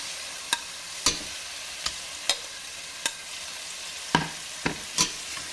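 Pork pieces for a curry browning in a frying pan, with a soft steady sizzle broken by about ten sharp clinks and scrapes as the meat is turned, close by and without talk.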